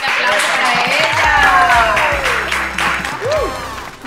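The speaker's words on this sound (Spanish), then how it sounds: "Un fuerte aplauso para ella" Audience applause at a celebration welcoming a female guest from Spain: steady clapping throughout, with a voice talking and exclaiming over it.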